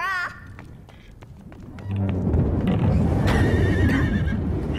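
Spooked horses in a windy stable from a Chinese martial-arts action film give a high whinny at the start, followed by scattered hoof knocks and then a second neigh over a loud, steady rush of wind.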